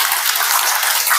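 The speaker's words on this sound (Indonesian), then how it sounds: "boleh tepuk tangan dulu untuk kita semua" A class of students claps together in a classroom, a brief, dense patter of many hands that holds steady for just over a second.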